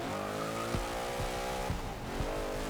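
A Mercury race car in Forza Motorsport 6 screams around a speedway track, its high-revving engine climbing toward 8,000 RPM in repeated rising pitch sweeps, loud and continuous with brief shifts between gears.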